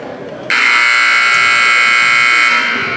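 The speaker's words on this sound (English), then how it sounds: "Buzzer just went off for halftime" A loud, steady electronic buzzer sounds for about two seconds to mark halftime in a basketball field house, over faint crowd and court noise.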